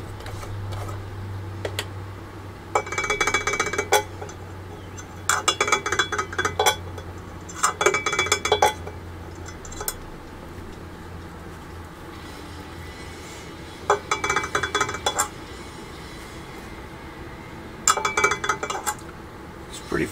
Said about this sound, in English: Clean up my brush here.